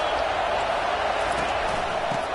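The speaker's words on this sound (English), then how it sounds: "This crowd trying to make life miserable for this offense." A home crowd at a college football game roars in a steady, dense wash of noise, loud and unbroken throughout, with no distinct voices standing out.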